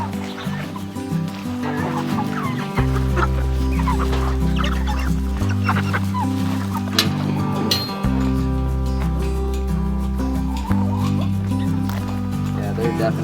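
Chickens cluck and crow steadily on a farm where cover crop fertilizers are being tested, the birds starting to molt, with occasional talk and a low droning tone running underneath.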